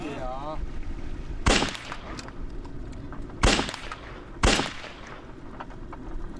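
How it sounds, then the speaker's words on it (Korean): Three sharp, loud gunshots from seal hunters' boats in Greenland ring out over steady engine and water noise, one near 1.5 seconds and two more close together a few seconds later. "이때 바다표범 가까이 접근한 배에서 두 번째 사격이 이루어집니다."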